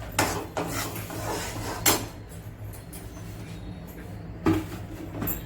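Flour roasting in ghee in a pan, stirred with a utensil: a few scattered scrapes and knocks against the pan over a low, steady background, fairly quiet and close.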